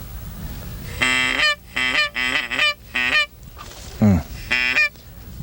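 Geese flying in over a corn field give a series of loud, close honks in quick bursts, several calls clustered together with short gaps, against a quiet outdoor background.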